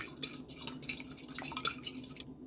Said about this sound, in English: Alright, egg, beat it. We beat the eggs.